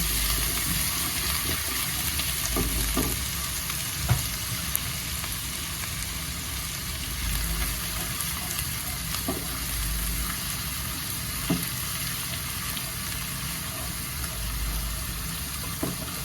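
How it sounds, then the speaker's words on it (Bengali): Chopped ginger stirred and frying in a pan over medium flame, a low continuous sizzle with occasional soft clicks and scrapes of a utensil, quiet and steady without speech. "জিঞ্জারটা এরকম 1 থেকে 2 সেকেন্ড মতো নাড়বো"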